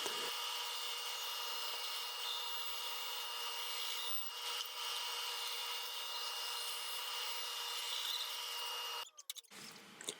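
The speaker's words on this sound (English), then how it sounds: "it's back to the bandsaw for some more really quick cuts" Bandsaw cutting a wooden spatula blank, a steady high-pitched whining buzz that runs continuously before stopping abruptly near the end, followed by brief handling clatter.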